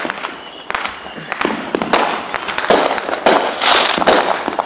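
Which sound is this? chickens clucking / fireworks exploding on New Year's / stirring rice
fireworks exploding on New Year's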